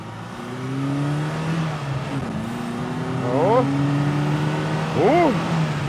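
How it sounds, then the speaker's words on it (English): A warmed-up car engine revs repeatedly, rising pitch sweeps climbing and falling twice near the end over a steady drone, fairly loud and close. "The engine is nice and warm,"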